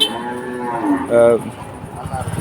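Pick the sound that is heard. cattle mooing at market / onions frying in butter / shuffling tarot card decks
cattle mooing at market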